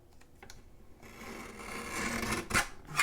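Paper being trimmed for a cracker gift box, a steady rasping cut that builds in loudness over a few seconds, with a couple of sharper scraping bursts near the end; no talking.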